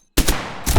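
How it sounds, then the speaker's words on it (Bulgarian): Gunshots in the tactical shooter Zero Hour aimed at the player: after brief silence, two quick sharp shots crack close and loud, followed moments later by another burst of fire. "Кой ме стреля?"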